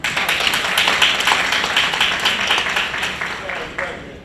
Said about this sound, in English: yes, some applause